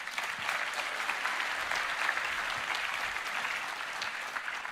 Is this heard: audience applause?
yes